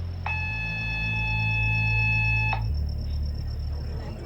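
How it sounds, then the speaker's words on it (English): Muster drill alarm on a Viking Rhine river cruise ship: a single loud, steady electronic tone sounding for about two seconds over a low engine rumble, then cutting off abruptly. "what the alarm sounded like"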